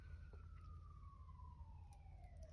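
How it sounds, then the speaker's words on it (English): A distant city siren in New Zealand wails in a long, slowly falling tone over a low rumble of background noise, faint and far off. "there's the city siren"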